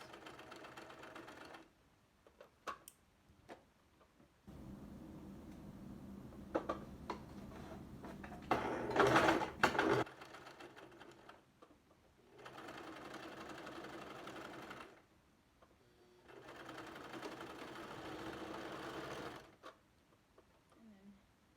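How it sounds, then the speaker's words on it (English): A sewing machine stitches the seam of an improvised fabric face mask, back-tacking to secure it. The motor whirs in several separate bursts of a few seconds each, with quiet pauses between them, heard up close. "Back tack to secure your stitches."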